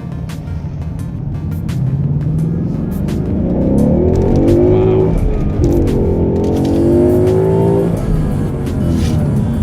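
A 2017 Ford Mustang GT's engine revs hard under acceleration from the cabin on a test drive, a loud sustained roar that rises in pitch, dips briefly at a gear change, then climbs again.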